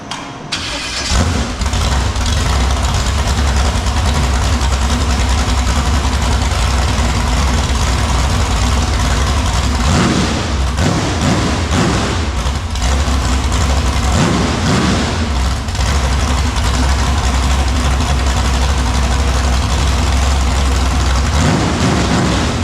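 A demolition derby car's freshly installed engine cranks and fires, then idles loudly and steadily up close for about twenty seconds, with a few brief revs rising over the rumble.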